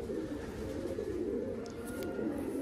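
Pigeons cooing softly and steadily over a continuous low murmur, close by, with no clear speech.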